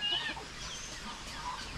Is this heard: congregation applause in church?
no